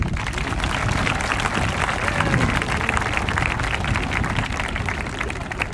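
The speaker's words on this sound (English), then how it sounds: "So how about a round of applause for yourself?" Applause at a high school marching band summer showcase, an outdoor crowd clapping in a continuous, fairly loud and evenly sustained wash with faint voices mixed in.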